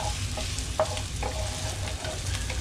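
Food goes into a preheated pan and sizzles steadily, with crackling frying noise and a few brief clinks and stirring sounds close by.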